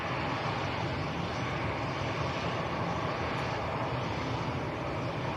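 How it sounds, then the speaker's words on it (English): A US Air Force C-17 military transport aircraft flies somewhere to the north near Manchester Airport under an overcast sky, giving a steady, distant broadband jet roar that holds evenly throughout with no voices. "US Air Force C-17 to our north."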